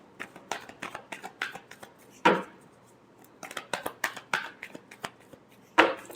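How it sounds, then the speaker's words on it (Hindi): Tarot cards are shuffled by hand in quick bursts of papery riffling and soft slaps, with a couple of sharper louder riffles, close and dry with no talking. "last shuffle"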